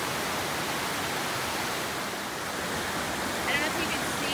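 Side Creek in the North Cascades, inside Ross Lake National Recreation Area, rushes loud and close as a constant broadband roar of whitewater with no letup throughout.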